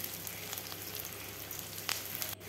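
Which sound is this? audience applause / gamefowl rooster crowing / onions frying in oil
onions frying in oil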